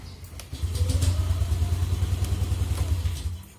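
A motorcycle engine, one with a faulty idle speed control showing error 37, catches after a brief crank and settles into a steady, low, throbbing idle close by.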